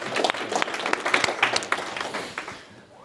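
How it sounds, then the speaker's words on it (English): A small gathering at a parish budget and finance forum breaks into brief applause, a few dozen hands clapping briskly in a dense patter that tapers off within about three seconds. "I think we should applaud the parish"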